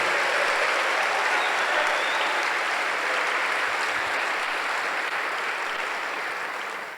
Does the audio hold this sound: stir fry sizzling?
no